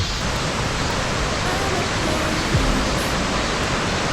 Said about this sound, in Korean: 폭포 떨어지는 물소리가 웅장하게 들린다